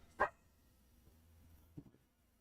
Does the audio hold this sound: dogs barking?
yes